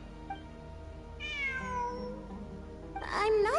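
A cat in Genshin Impact meows twice: a drawn-out meow in the middle of the clip, then a sharper, rising cry near the end. Both play over a steady game background with no talk.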